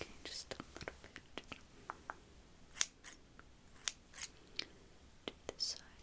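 Close, crisp scissor snips trimming hair during a relaxing haircut, coming in quick irregular bursts of short sharp cuts with soft pauses between, quiet and intimate with faint whispery background.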